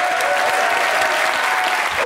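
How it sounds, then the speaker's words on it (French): A TV studio audience applauds a guest with dense, sustained clapping that fills the room evenly, loud and close, and no voice is heard over it. "applaudissements pour elle"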